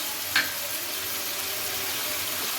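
Potato sabzi frying with tomato and spices makes a constant close sizzle, with one short sharp clink of a spoon against the pan near the start.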